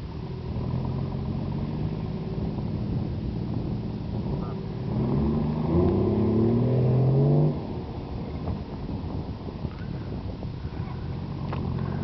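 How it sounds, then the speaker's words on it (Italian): A car engine idles with a rough, steady rumble, rises briefly in a strained revving surge, then drops back, consistent with the engine stalling. "Perché si spegne la macchina?"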